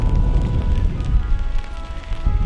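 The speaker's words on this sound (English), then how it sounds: "Hailing again." Hail pelting down outdoors in cold weather, a steady dense patter and rattle that holds at an even, fairly loud level throughout, with no voices.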